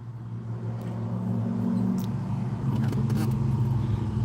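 Loud car passing outside on an Australian street, a steady low engine rumble that swells and holds strong over several seconds, with some faint background sound on top.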